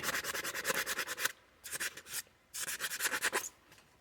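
Rough hand sanding across the metal of an EAA Windicator .357 Magnum revolver: rapid rhythmic back-and-forth rasping strokes in three bursts with brief pauses, close and fairly loud, no talking.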